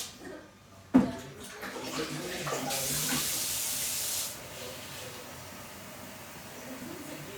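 Cold water is poured into a Thermomix mixing bowl of whole lemons, a steady splashing hiss of a few seconds that starts after a sharp knock and then fades, with speech nearby.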